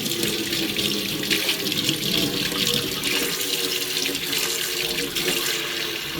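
Tap water runs steadily into a basin being filled to wash a handmade dog hair scarf, a continuous close, loud gush and splash with no pauses.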